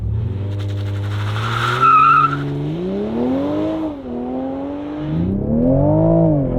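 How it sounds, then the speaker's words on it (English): A Toyota sports car launches off the line in limited traction mode, its engine note climbing and dropping through gear changes, with a short burst of tire squeal from wheel slip near the start. "I'll just try and walk it off the line. It'll probably have a little bit of wheel slip"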